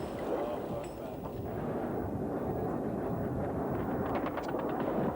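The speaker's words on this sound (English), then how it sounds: "Flak narrowly misses a swooping Su-25." Anti-aircraft flak fire bursts near a swooping Su-25 ground-attack jet over Afghanistan, a dense, continuous rumble of distant gunfire and explosions with roaring noise throughout.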